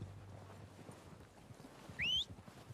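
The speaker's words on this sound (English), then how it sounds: "They're coming down with the horses." Horses' hooves clip-clop in a video game as riders come down toward the group, a steady low patter of hoofbeats with a brief higher whistle-like call near the end.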